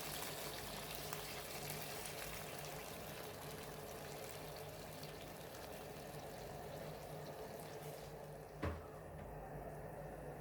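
Boiling water poured into a soup pot with bay leaf and herbs, a steady broadband wash of liquid running for the whole stretch, with a brief knock near the end.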